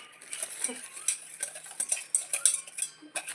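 Pancake batter with sugar being mixed by hand, a utensil clinking and scraping against the bowl in quick irregular strokes, close and fairly clear, with no talking.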